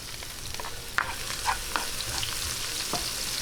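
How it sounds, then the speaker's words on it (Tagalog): Garlic frying in a pan for Filipino pork adobo with kamias, a close, continuous sizzle broken by a few sharp clicks and scrapes of stirring. "Ngayon, ilagay po natin ng bawang."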